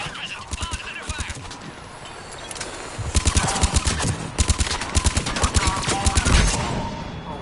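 Rapid automatic gunfire from Mass Effect 3 hammers at an escape pod, with loud, punchy bursts of shots in quick rhythmic volleys that swell after a few seconds and stay intense to the end.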